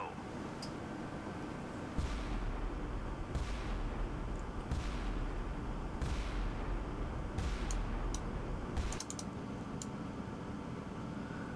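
Large-scale naval guns firing in the naval warfare game Sea Power, several heavy booming blasts at irregular intervals over a constant rushing background.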